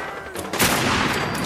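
Gunfire in the video game Fallout 4, with a loud, sharp blast about halfway through followed by dense, sustained noise, the shot mix filling the rest of the moment.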